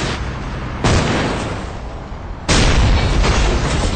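Tank gunfire and explosions in the video game Battlefield 2, two heavy booming blasts about a second and a half apart, each followed by a rumbling decay, loud and close.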